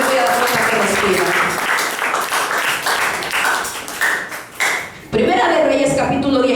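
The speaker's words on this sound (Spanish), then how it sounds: "Denle palmas al Rey si está vivo." A church congregation claps in a busy, sustained burst of applause, mixed with ringing tones and voices, then swells louder toward the end.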